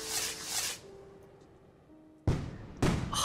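Fireworks go off at night in Tracks: The Train Set Game. Broad hissing bursts rise and fade, a pause follows, and then two loud, close blasts come in quick succession.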